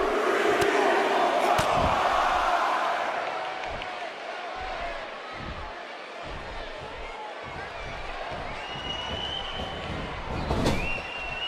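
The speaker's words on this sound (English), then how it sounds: "And listen to the crowd here in Iraq." Arena crowd at a WWE wrestling event in Iraq cheering and roaring steadily in a broad wash of noise, with a commentator talking over it and a brief loud burst near the end.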